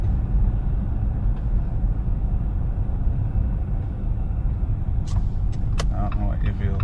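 Car approaching fast from behind on a rural dirt backroad in Digby County, Nova Scotia, a steady loud rumble of tyres and engine filling the scene, with brief sharper clatter near the end.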